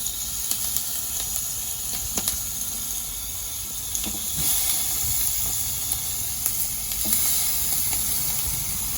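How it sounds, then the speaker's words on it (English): Chicken sizzling on a barbecue grill over high heat, a steady close hiss and crackle with scattered small pops throughout, no voices. "Hope you can hear that sizzling noise."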